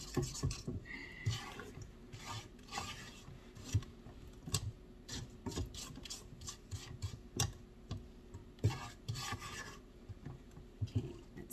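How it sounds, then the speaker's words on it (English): Two large lemons scraped against a zesting planer, giving close, repeated rasping strokes in an uneven rhythm with short pauses between passes and no talking. "I just used my zesting planer, but if you don't have one, cheese grater works great too"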